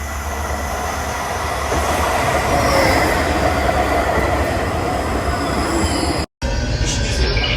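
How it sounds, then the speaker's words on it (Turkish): A tram in Bosnia rumbles loudly along its rails with steady grinding and faint wheel squeal, close by, with a brief dropout near the end. "Bosna'ya tramvaya bineceğim."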